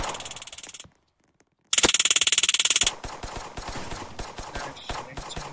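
Rapid bursts of automatic gunfire in a Colorado State roleplay video game, loud and close, with a dense rattling stretch, a sudden silent gap, then another sustained burst trailing into scattered shots.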